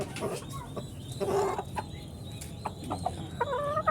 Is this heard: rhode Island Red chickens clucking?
yes